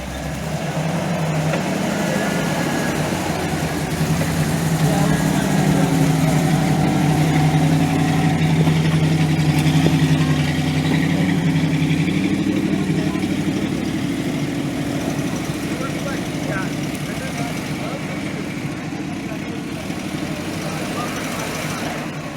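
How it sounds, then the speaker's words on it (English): A 1985 Jeep CJ7 engine labors as the truck climbs a rocky off-road obstacle, a steady mid-low rumble that swells and eases with the throttle while people talk over it. "All right, we got the CJ7 hitting the knuckle smasher."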